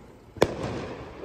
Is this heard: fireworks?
yes